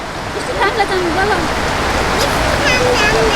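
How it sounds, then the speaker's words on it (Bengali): Rain falls steadily on a rainy fish market in Dhaka, heard from under a shelter. The hiss is dense and continuous, loud and close, with faint, indistinct sounds from the market in the background. "আসলে বৃষ্টি থামার লক্ষণ নেই পড়ছে আকাশ থেকে"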